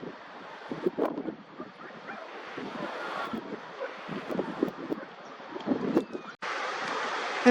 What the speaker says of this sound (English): It's a little bit windy today on top of here